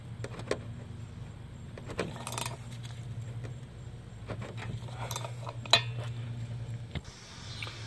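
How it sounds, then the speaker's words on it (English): A 14mm wrench snugs up a bolt on the rear brakes of a Kia Soul, faint metallic clicks and clinks scattered over a low hum, with one sharper tap near the end. "I'm just going to use my 14mm wrench, and we're just going to snug it up."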